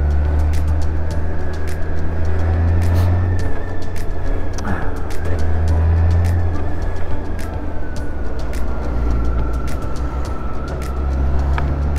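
A motorcycle ridden on the road, its engine droning steadily with a low rumble and continuous wind buffeting throughout, near and loud, with a rider's voice faintly audible at times.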